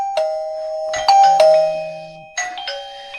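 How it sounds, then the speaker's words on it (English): A wireless video doorbell plays electronic chime tones after its button is pressed, ringing in several close, loud bursts with sustained tones and clicks between them. "we can press the doorbell."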